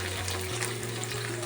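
Dried red chilies dropped into onion masala frying in a pan, a steady, close hiss of oil sizzling with no voices.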